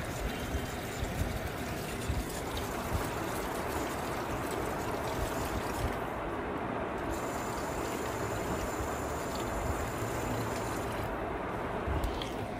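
Beef trotter bones are rinsed under running water for a nihari recipe, giving a steady, close splashing trickle that continues without a break and with no voices.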